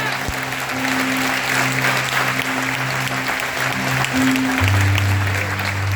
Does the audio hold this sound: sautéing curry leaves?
no